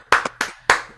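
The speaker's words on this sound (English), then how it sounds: "Let's everybody unmute and make a lot of applause for him so he feels good." An online livestream audience unmutes to applaud a performer, heard as a handful of sharp, close hand claps in an uneven rhythm with short gaps between them.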